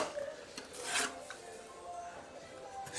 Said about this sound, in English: with the adhesive on your corker, put it onto your scraper and commence to fill in